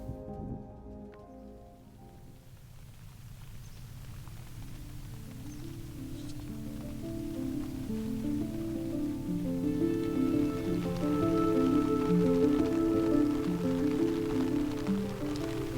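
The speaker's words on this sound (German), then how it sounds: "Jetzt ist der erste Tag, wo es wirklich den ganzen Tag durchregnet." Steady rain falls in Scotland, a soft continuous patter that grows denser and louder over the stretch while a low rumble or tonal hum builds underneath, with no talk.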